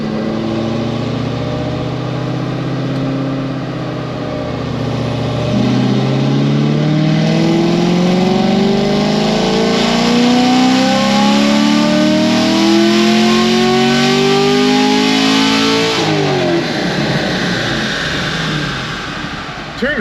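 A 2020 Chevrolet Camaro LT1 with a stage 3 heads and cam package, American Racing headers, an MSD intake manifold and E85 flex fuel revs up from a rumbling idle into a loud, rising engine howl. The engine is close and dominant, then drops back.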